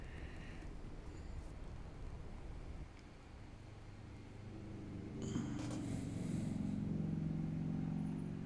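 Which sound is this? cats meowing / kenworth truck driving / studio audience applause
kenworth truck driving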